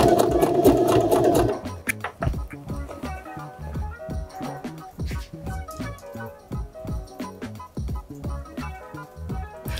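A sewing machine stitches a trouser seam while the waist is being taken in. A brief loud whir at the start gives way to a steady, close mechanical clatter of rapid stitches.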